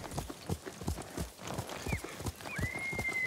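Horse hooves clip-clop in a steady rhythm, and a high whinny rises and trails off near the end, in the samurai video game Ghost of Tsushima Director's Cut.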